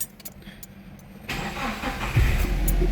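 A Nissan Navara D22 pickup that had trouble starting cranks briefly and then catches, its engine firing up and settling into a louder, steady idle close by.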